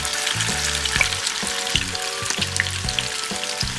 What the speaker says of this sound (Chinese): 油热之后，把炸净的排骨一根根的放进锅里慢慢煎。